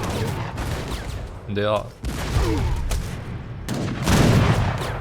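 Abus guns and falconet cannons fire in an Age of Empires III battle as a rapid crackle of gunshots and booms, with a voice talking over the volleys.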